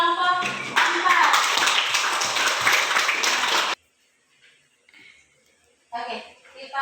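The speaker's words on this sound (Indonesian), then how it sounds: "kita kasih aplaus dulu untuk kelompok 4" A classroom of students applauding for a presenting group, dense close clapping lasting a few seconds that cuts off sharply, followed by quiet and then a voice speaking.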